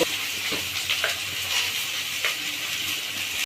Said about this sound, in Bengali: এই তেলের মধ্যে আমি বেগুনটাকে দিয়ে দিলাম